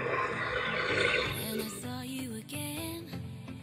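A creature roars in a survival video game, a loud, drawn-out growl over the first second and a half, then repeated shorter roaring calls with tonal rising cries, mixed with game sounds throughout.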